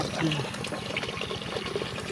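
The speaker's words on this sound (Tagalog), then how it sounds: "lagyan natin ng tubig yung mga gansa" Water splashes and runs as it is poured out for geese outdoors, a steady liquid rush with faint voices and background noise mixed in.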